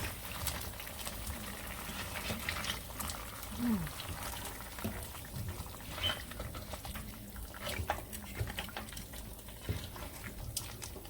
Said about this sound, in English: I'm going to add some water to it.